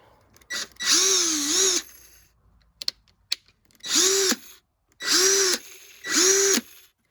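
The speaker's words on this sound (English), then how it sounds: "Now chuck it down until it ratchets." A drill chuck spins up in four short, loud bursts separated by pauses, with a few sharp clicks in the gap between as it ratchets tight.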